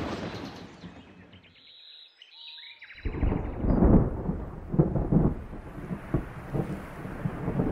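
A heavy thunder rumble rolls in loudly after a quieter stretch, booming on amid wind and rain, with no voices.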